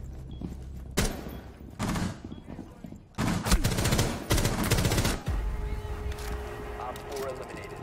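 Gunshots in the video game Rainbow Six: sharp single cracks followed by bursts of rapid automatic fire, loud and close, with voices talking in between.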